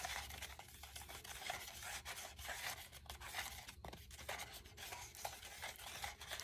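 Satanite refractory coating being mixed by hand like wet concrete for relining a propane forge: steady, quiet scraping and stirring rasps with a wet, gritty texture, repeating continuously without voices.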